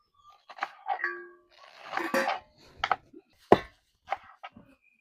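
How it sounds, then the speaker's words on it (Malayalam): Dried red chillies pounded by hand for a bean stir-fry, a series of irregular dull thumps and gritty crunches at close range, some blows longer and grinding, with quiet gaps between them. "നമ്മളെ പയറുപ്പേരി ഉണ്ടാക്കാൻ വേണ്ടിയിട്ട് ഉണക്കമുളക് കുത്തുകയാണ് കേട്ടോ"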